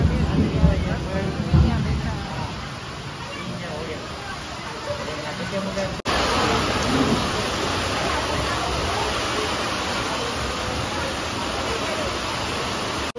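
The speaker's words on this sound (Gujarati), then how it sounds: "ઓહો, પવન ને એટલો વરસાદ" Heavy rain driven by wind roars as a dense, steady hiss throughout, with a sudden jump in loudness midway, while people talk faintly beneath it.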